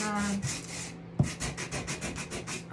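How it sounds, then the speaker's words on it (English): Sandpaper rubbing along the edges of a wooden piece to age it, in quick, even back-and-forth strokes, close up and fairly loud. "I want to age it a little bit by using a sanding paper"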